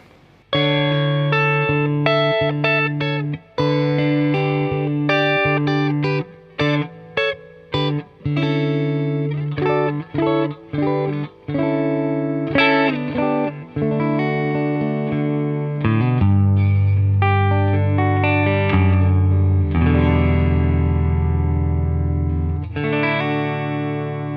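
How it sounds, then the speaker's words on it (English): Fender Deluxe Stratocaster played alone through a Fender Deluxe Reverb tube amp, plucked notes and ringing chords with a warm clean tone and a touch of reverb, loud and close. "I'm playing my Fender Deluxe Stratocaster through my Deluxe Reverb amplifier."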